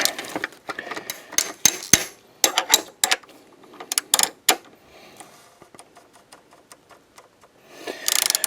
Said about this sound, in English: I gotta get that socket on there